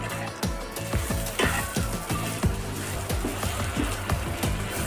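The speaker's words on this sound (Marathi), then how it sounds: "झाकण काढून घेऊया परत एकदा मिक्स करून घ्यायची शिमला मिरची" Capsicum frying in oil and masala, a steady close sizzle broken by repeated scraping strokes of a spatula stirring through the pan in an uneven rhythm.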